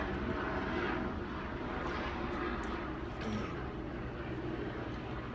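Steady rotor and engine drone of a police helicopter passing overhead in Los Angeles, loud and continuous throughout, with faint distant background noise.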